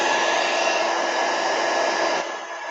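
A hair dryer or heat tool blows steadily over freshly painted acrylic on a journal cover, a loud close whoosh that holds constant and then drops slightly in level near the end.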